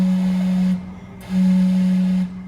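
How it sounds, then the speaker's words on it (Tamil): Vancouver's steam clock whistling, a loud sustained steam whistle tone that sounds, pauses briefly, then blows again with a long second note. "இது வந்து அந்த கிளாக் எழுப்புற சத்தம் தான்."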